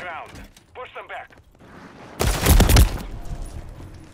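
A burst of automatic gunfire erupts in a Call of Duty Modern Warfare III multiplayer match, loud and close for under a second and trailing into battlefield rumble, after a stretch of shouted voices.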